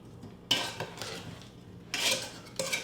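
Sweet and sour sauce being mixed with brown sugar and ground ginger in a bowl, with a few short scraping and clinking bursts of a utensil against the dish, fairly quiet and close.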